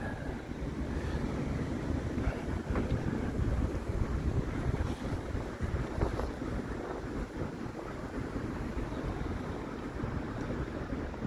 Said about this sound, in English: cold wind.